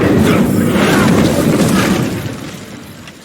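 A fiery Incendio spell cast in the game Hogwarts Legacy bursts out as a loud, roaring whoosh with a booming edge, holding strong for about two seconds before fading out.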